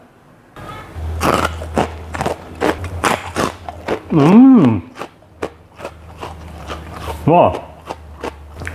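Crunchy fried mackerel kuku macan snack being bitten and chewed, a series of sharp close crunches in quick succession, with a brief spoken exclamation and a hummed sound of appreciation between bites.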